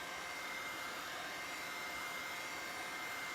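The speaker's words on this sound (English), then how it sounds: "The brand of this dryer is a Fuji Wara." A Fuji Wara hair dryer blows with a steady, unbroken whooshing hum, close and constant throughout, with no voices.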